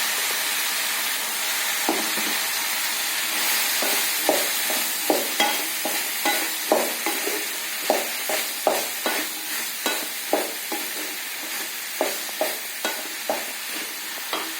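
Bottle gourd fries in oil in a pan while a spoon stirs it, giving a soft steady sizzle under repeated scraping strokes in a fairly even rhythm, close by and moderately quiet.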